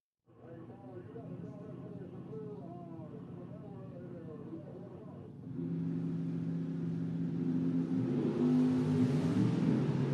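A drag race car launches at a drag strip memorial event, its engine bursting into a loud, rising roar about halfway through after an announcer talks over the track's background hum.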